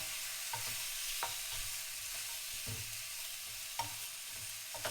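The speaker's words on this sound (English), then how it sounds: "Now give everything a good stir." Rice with spices sizzles steadily in a hot pan for a one-pan chicken pilaf, with occasional soft scrapes of a spoon stirring through it and no voices.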